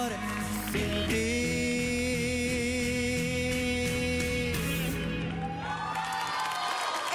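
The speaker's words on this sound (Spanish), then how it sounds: "Este aplauso es para Mauro en su presentación en el escenario." Audience cheering and applauding for a performer named Mauro after his song on stage, a loud crowd roar with whoops over lingering music that fades out toward the end.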